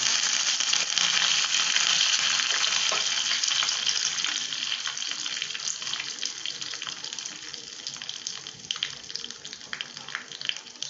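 Loud, steady sizzling of spices tempering in hot oil crackles and hisses without pause, easing off slightly toward the end.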